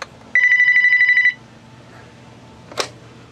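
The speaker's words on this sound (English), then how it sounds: "You can actually page it while it's on the base." A vintage Sony SPP-73 10-channel cordless telephone base sends out a paging ring, a single steady electronic trill lasting about a second, loud and close, followed by a brief click.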